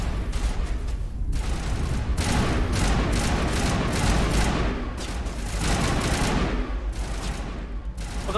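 Sustained bursts of gunfire in Mass Effect Legendary Edition, a dense crackling volley of rapid shots with a few short pauses, loud and continuous with no talk over it.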